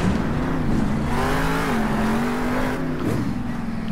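A monster truck's engine during a freestyle run at the World Finals, loud and close, holding a steady throttle roar with slight rises and dips in pitch, no voices over it.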